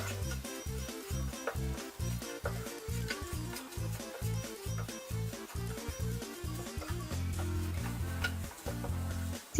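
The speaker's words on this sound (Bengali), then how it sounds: "এবার আমি চিনি ঢেলে দিব এবং নাড়াচাড়া করব।" Flattened rice (chira) stirred with sugar in a pan, repeated rhythmic scraping and tapping of a utensil against the pan with a faint sizzle, steady and close under a tonal musical backing.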